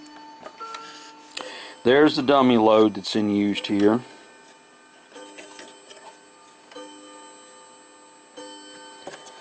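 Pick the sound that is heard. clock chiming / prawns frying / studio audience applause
clock chiming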